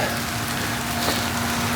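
Steady rain falling and pattering on surfaces outdoors at a chateau, a soft continuous hiss of drops with no voices.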